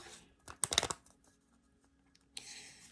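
A small plastic packet from a paper surprise craft set crinkles in a quick burst of rustling, then goes quiet before a second short rustle, soft and close.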